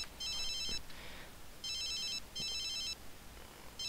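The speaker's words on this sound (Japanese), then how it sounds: "電話に出る。" Electronic phone ringing in The Sims 3, repeated trilling bursts in a regular pattern, fairly faint over a steady background hiss.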